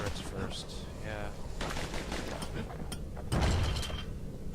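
Rapid gunfire from turrets in the video game Bastion rattles through a busy action sequence. Dense bursts layer over the game music and effects, and a heavier impact lands near the end.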